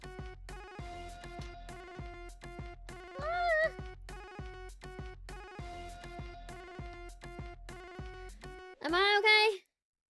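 A phone ringtone in the visual novel game Sister Other Paranoia chimes in a steady repeating electronic melody throughout, with a brief rising alert tone midway and a louder burst near the end.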